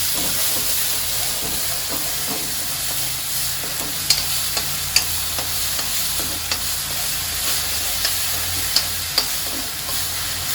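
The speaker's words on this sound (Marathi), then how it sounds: "वाटण चांगलं तेलामध्ये मी परतून घेते" Ground spice paste (vatan) frying in oil over medium heat while being stirred, giving a continuous close sizzle and hiss with sharp spoon scrapes and clicks recurring every second or so.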